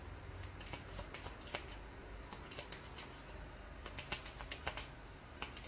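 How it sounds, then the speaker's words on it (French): Deck of playing cards being reshuffled, a soft close riffling and flicking of cards with quick irregular snaps, faint and alone. "je vais juste remélanger le paquet"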